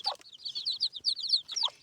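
Mini hens clucking close by in quick, chattering bursts, with a busy run of short calls and no talking.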